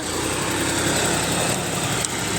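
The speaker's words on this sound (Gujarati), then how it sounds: "અહીંયા જુઓ લોડરથી ભેંસનું સોણ નાખવામાં આવે છે" A tractor loader engine runs steadily while unloading buffalo dung onto a farm field, a loud, close, continuous drone with no break and no voices.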